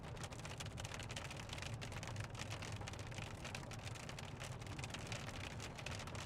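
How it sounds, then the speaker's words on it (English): Heavy rain pounding during a storm chase in Iowa, a dense, even roar of drops drumming on a vehicle throughout, with no talk. "Sounds like heavier rain right now."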